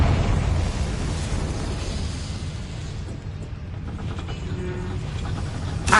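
Confringo spell explosion in Hogwarts Legacy, a loud rumbling burst with a heavy low-end roar that slowly fades over several seconds, ending with a small pop.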